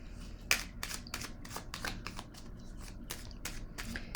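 Oracle cards are shuffled by hand in a quick series of crisp riffling bursts, about a dozen sharp flurries at an irregular rhythm, close and fairly quiet in a still room.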